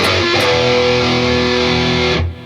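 Distorted electric guitar power chords with the octave added, ringing loud and sustained for about two seconds before cutting off, with no talking.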